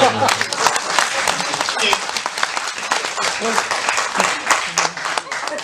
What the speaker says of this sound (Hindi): ताली तो बजा दो यार।